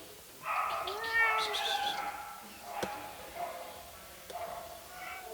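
A cat gives a drawn-out, wavering meow up close, then fainter mewing follows amid quiet household sounds.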